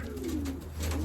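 An older pigeon coos softly in a low, rolling burble, faint against steady background noise, with no talk over it.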